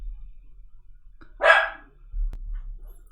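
A puppy lets out one sharp bark in the background, fairly clear against a quiet low hum, followed by a softer rustle.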